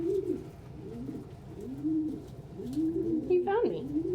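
Soft, repeated cooing from a pet bird, a steady run of low rolling coos close by over about four seconds, rising into a brief warbled flourish near the end with no talking.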